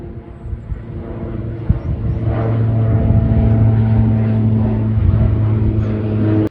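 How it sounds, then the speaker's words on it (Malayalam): An airplane flies overhead near Charlapalli railway station, a steady low engine drone with a strong tonal hum that builds slightly and holds at a moderate, fairly near level. "എന്തേ വിമാനം പോകുന്നു"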